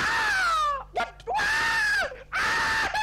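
Screams from a Minecraft funny-moments clip: three long, loud wailing screams in a row, each sliding down in pitch, separated by short gasps.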